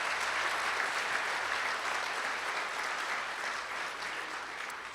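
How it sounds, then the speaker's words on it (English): Audience at a casino opening-day ceremony applauding steadily, a dense wash of clapping that fades slightly toward the end. "Give them a round of applause."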